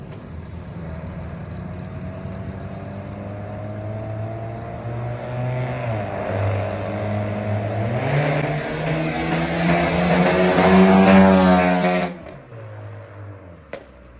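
A motorcycle with a loud aftermarket exhaust revs outdoors, its engine note climbing in pitch through several swells to a throaty peak before abruptly dropping off.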